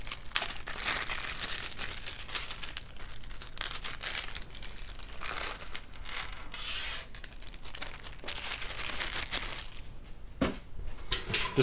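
A small plastic bag of computer case screws is torn open and handled, giving continuous close crinkling and rustling with a few sharper crunches throughout.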